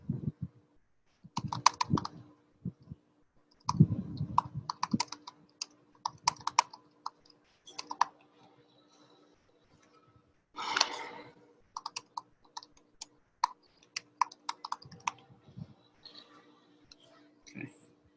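Close, quiet typing on a computer keyboard in bursts of soft clicks with pauses between, during a meeting, with a voice speaking in between.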